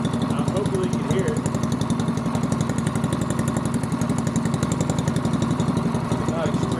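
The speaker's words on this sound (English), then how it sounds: "they got a good sound to it. I like that little muffler" A custom adult-size go-kart engine idles steadily with a rapid, buzzy putter through a little muffler, close and fairly loud, unchanging throughout.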